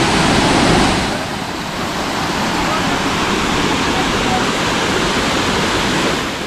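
Loud, continuous roar of the Panwal waterfall, a dense wash of pouring water, close up; the rush swells slightly in the first second, then holds steady. No clear speech is heard over it.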